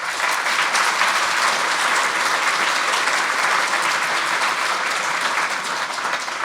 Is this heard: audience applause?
yes